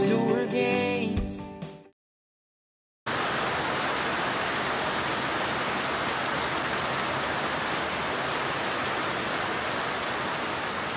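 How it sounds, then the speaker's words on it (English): Steady, dense rain pours down outdoors in Belize, a continuous close hiss that begins abruptly after a brief silence and runs on unchanged with no talking. "It rains a lot in Belize."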